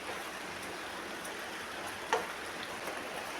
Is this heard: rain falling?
yes